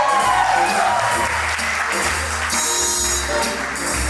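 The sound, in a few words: wedding guests applauding grandma's dance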